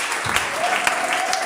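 Sustained clapping from a church congregation, close and continuous, with a faint vocal or sung tone running beneath the applause.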